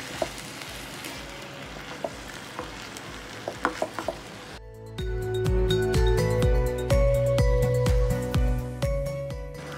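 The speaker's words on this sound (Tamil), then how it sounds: "இது கூட நான் ஒரு கப் அளவுக்கு துருவன தேங்காய் ஆட் பண்ணிக்கிறேன். ஆட் பண்ணிட்டு இதில் நல்லா மிக்ஸ் பண்ணிக்கலாம்." Grated coconut is stirred into bubbling jaggery in a pan: a soft, rain-like simmer is joined midway by louder spoon scrapes and thick sizzling as the mixing starts, with no voices.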